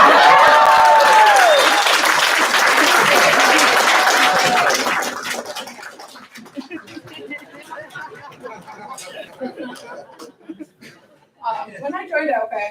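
Crowd applause at the 2023 30 Under 30 Awards, a loud sustained burst of clapping for about five seconds that drops away into scattered chatter, chuckles and a speaking voice.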